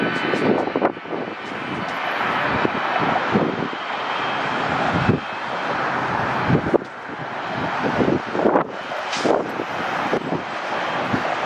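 A one-year-old Frontier Airbus A320neo arriving from Fort Lauderdale comes in to land at Atlanta's airport, its engines a loud, steady broadband roar that swells and rumbles throughout, with some wind buffeting the microphone.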